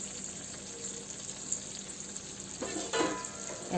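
Five eggs cooking in a pan for egg bhurji give a steady, moderately loud frying sizzle, with a few brief stirring scrapes near the end and no talking.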